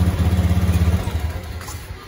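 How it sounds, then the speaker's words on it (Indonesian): The engine of a Honda Beat ESP scooter with a fault sputters in a rough, pulsing rhythm, then loses power and fades as it stalls, close and fairly loud. "Kalau digas pun dia nggak mau, malah mati motornya"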